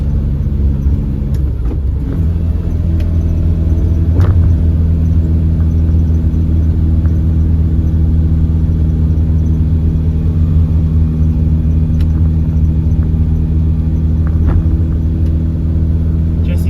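A bus drops down a couple of gears and climbs a hill, giving a loud, continuous low engine drone with steady harmonic hum and a few faint knocks.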